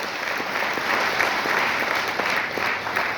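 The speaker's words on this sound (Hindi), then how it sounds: "एक बार फिर ताली चाहूंगा इनके लिए" Audience applause, a steady sustained clapping from a crowd in an indoor hall, moderately loud and continuous throughout.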